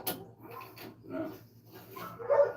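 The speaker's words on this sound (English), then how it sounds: "Dogs screaming, they're starving." Hungry, starving dogs bark and whimper in a series of yelping bursts, a few near and fairly loud, with some noise between them and no clear talk.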